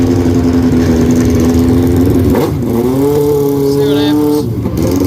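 A rebuilt motorcycle engine runs steadily and loudly up close at a drag strip, its tone dipping and rising slightly midway, with some voices mixed in underneath.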